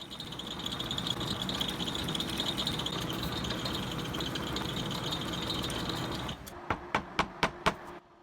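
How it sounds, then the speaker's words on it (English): A lathe machines aluminum flex couplings with a steady grinding, rasping whir for about six seconds, then the motor cuts out and several sharp metallic taps follow in an even rhythm. "Luckily, I have a lathe."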